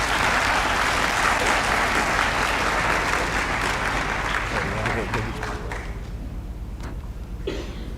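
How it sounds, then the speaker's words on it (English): A school audience applauds state tournament athletes at a Lawrence County High School recognition event, dense sustained clapping that fills the room, then thins and tapers off toward the end. "Let's give these guys a round of applause"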